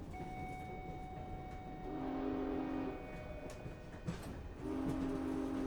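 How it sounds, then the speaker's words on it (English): A train rumbles steadily up close, with two long, low horn blasts sounding over the noise of the cars. "There's a train that leaves the city at dusk"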